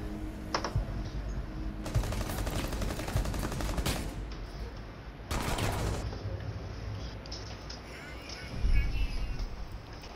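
Call of Duty gameplay with bursts of rapid gunfire, two dense volleys followed by scattered shots, close and loud amid background game sounds.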